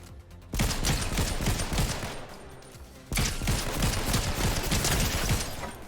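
Rapid bursts of automatic gunfire in a Fortnite-style shooter video game. The fire is loud and dense, with two sustained volleys split by a brief lull and no talking.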